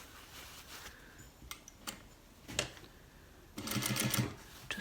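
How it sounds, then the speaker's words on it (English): A sewing machine edge stitches a waistband onto cargo pants, giving a brief rapid run of stitching near the end after scattered clicks and handling noises, fairly quiet and close. "I'm using edge stitching for it"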